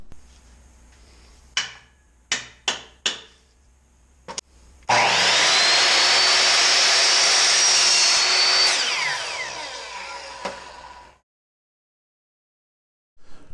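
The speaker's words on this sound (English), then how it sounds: "We're going to go ahead and cut these on our miter saw." A miter saw slices through a bundle of quarter-inch wooden dowels for a beehive frame: several sharp knocks as pieces are set, then a loud whining cut of about six seconds that winds down and fades to silence.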